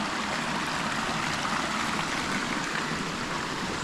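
A shallow forest stream with low water runs over rocks, giving a steady, even rush of flowing water that stays constant throughout, with no voices.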